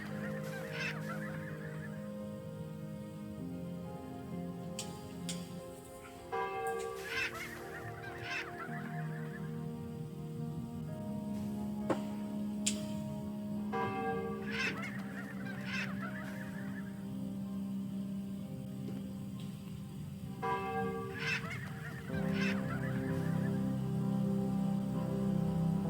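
Geese honking in a Nintendo Switch video game, repeated bursts of nasal honks spaced a few seconds apart over a steady game music bed, moderately loud with no talk.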